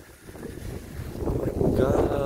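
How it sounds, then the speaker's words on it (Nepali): Strong wind blows at Swargadwari temple in Nepal during foggy, extreme autumn weather, a broad, rushing roar that steadily builds and buffets the microphone. "असोजको महिनामा यस्तो हावा लाग्यो"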